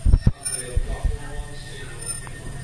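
A train runs along the rails, with a few loud knocks and clunks at the start, then a steady low rumble and faint clinks as the carriage rolls on.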